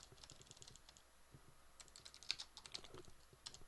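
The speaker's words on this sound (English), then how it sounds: "I'm not typing very accurately today." Fingers clatter on a computer keyboard in quick irregular bursts of clicks and taps, with a few sharper keystrokes, alone and fairly quiet.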